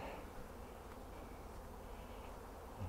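Low, continuous buzzing of many bees at a hive feeder, steady and close, with no other sounds.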